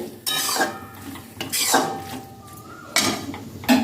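Bottle gourd curry stirred in a pan after sugar and chopped coriander go in, a few loud scraping bursts of a spoon against metal separated by brief quieter pauses, close and without talk.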